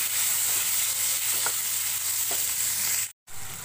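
Pointed gourd (potol) pieces fry with turmeric and salt in a pan, giving a steady, close, even sizzle with a few faint stirring scrapes and a brief dropout near the end.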